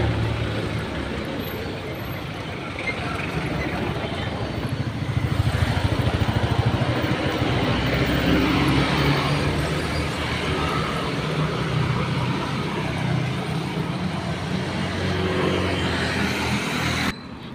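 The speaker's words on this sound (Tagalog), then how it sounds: "Ang daming sasakyan dito." Steady roar of busy road traffic in Baguio City, with cars, buses and motorcycles passing continuously at close to moderate distance, no talk over it.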